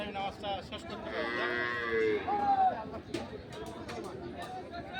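A bullock gives a low, drawn-out moo amid outdoor crowd chatter and voices at the Ambari cattle market.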